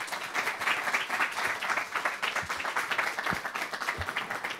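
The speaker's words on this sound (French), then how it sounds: "Sous vos applaudissements," An audience at a science summit in Saclay applauds steadily and moderately loud, a dense patter of clapping with a few sharper claps standing out.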